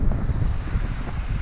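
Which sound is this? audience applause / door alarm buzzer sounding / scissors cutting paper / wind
wind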